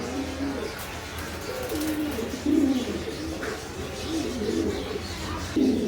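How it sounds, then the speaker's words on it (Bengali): A pair of white pigeons coo close by, giving repeated soft, low rolling calls in short phrases over a quiet background. "এক জোড়া কবুতর আমার দেখাইতেছি"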